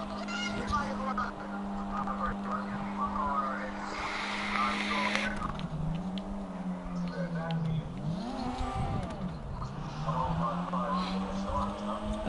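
A Toyota Supra (Jester Classic) sports car engine in GTA 5 drones steadily and revs up and down, its pitch sweeping while a voice talks over it.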